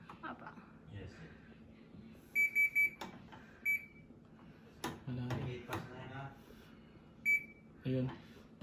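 Panasonic front-load washing machine sounding short, high electronic beeps for an unavailable program, several separate tones and a quick triple-beep burst, close by, with talk in between and faint handling clicks.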